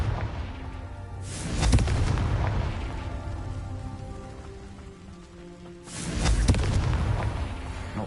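Two loud blasts from the Confringo explosion spell in a Harry Potter video game, one at about the middle and one near the end, each a broad crackling burst that trails off over a rumbling game soundscape.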